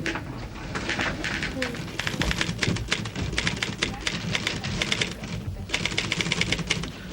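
Busy office typewriter typing, a rapid steady run of clattering key strikes that carries on for several seconds over a low room bed, with faint voices in the background.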